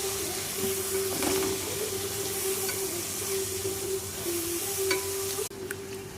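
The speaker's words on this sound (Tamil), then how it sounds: "அது நல்லா வதக்கி கொள்ளவும்" Food sautéing in a frying pan, a steady close sizzle with occasional scrapes and stirring clinks, continuous throughout.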